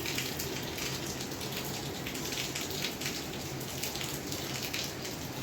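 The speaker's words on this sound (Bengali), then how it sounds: "ছাদের পানি ধরধর করে পড়তেছে।" Heavy rainwater pours and splashes steadily from a roof onto the surface below during a hard downpour, a dense, continuous rushing and drumming that stays loud and unbroken throughout.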